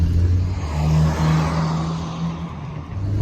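A VW Rabbit pickup truck engine revs and drones steadily for a few seconds, close and fairly loud, with a rising and falling rumble.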